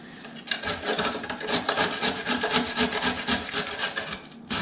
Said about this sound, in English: I'm going to get this all grated and I'll be back when the grating has finished